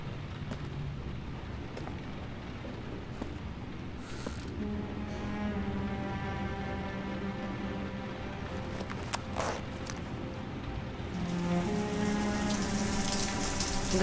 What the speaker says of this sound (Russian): хочу принять душ.